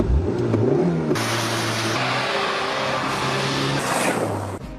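A Dacia Sport car drives at around 50 km/h, its mid-pitched engine droning loudly and close, with pitch rising as it revs up through the gears before easing off near the end.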